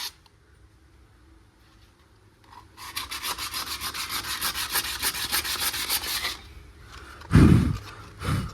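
Motorcycle wheel rim being rubbed down by hand with abrasive, a fast rhythmic scrubbing burst of strokes after a quiet start, then a few heavier knocks and rubs near the end.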